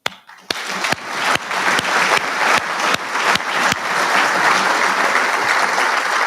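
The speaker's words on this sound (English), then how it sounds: "ladies and gentlemen. A round of applause." Audience applause at a Marine Corps Association combat development and expeditionary warfare awards dinner: a few sharp early claps quickly swell into loud, steady, dense clapping from a large room that holds on without letup.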